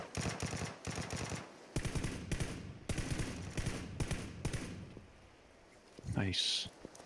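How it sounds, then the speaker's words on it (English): Bursts of gunfire in PlayerUnknown's Battlegrounds come in quick repeated volleys through the first five seconds, moderately loud, with players talking over them, then fading near the end. "Is something shooting off to our right?"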